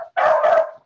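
A year-old Labrador barks once in a workshop, loud and close: a short yip followed by a single full bark, with nothing else around it.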